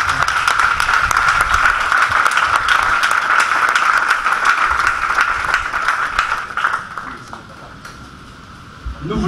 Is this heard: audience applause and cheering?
yes